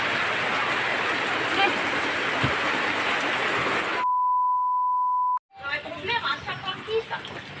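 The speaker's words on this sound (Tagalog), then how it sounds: "hindi talaga tumitigil yung ulan" Heavy rain pours down in a dense, loud hiss, then cuts to a steady electronic beep tone, followed by rain returning with voices talking in Filipino over it.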